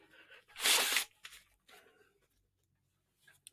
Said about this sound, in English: I have one of the weirdest sneezes in the world